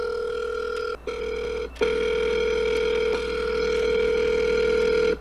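A telephone rings repeatedly with no answer in the video game Never Alone (Kisima Ingitchuna), loud steady tones broken by two brief gaps.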